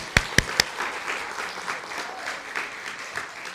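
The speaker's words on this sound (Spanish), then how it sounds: "un aplauso por" A small group breaks into applause, three loud, distinct claps up front followed by a softer, scattered patter of clapping that continues at moderate level.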